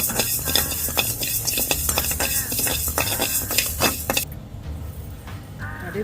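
Fenugreek seeds dry-roasting in a pan, with rapid metallic rattling and tapping of a spoon stirring against the pan that stops partway, leaving a quieter background.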